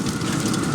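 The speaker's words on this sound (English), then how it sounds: "It's really starting to rain." Steady rain falls outdoors beside a backyard smoker cooking party ribs, making a dense, even hiss with no pauses or voices.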